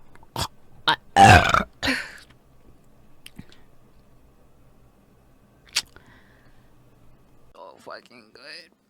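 A loud, drawn-out burp near the start, followed by quiet chewing and small mouth clicks, with faint voice sounds toward the end.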